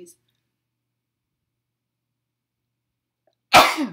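A single sharp sneeze bursts out after a long stretch of near silence, loud and close.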